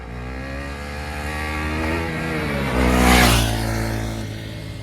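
A vehicle engine revs hard during a road stunt, one wheel lifted before the vehicle jumps across; the steady loud drone rises to a peak near the middle and then holds, with no talk over it.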